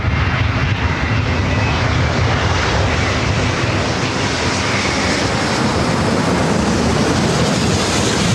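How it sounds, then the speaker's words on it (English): A Delta Airbus A350 arriving from Paris thunders in at LAX, a loud, dense, continuous jet engine roar filling the whole span, close and unbroken, without voices. "So I'll say Delta A350 coming up from Paris."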